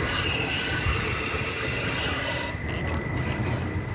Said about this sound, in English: I'm gonna hose this inside this frame to cover any bare metal that needs coated inside of there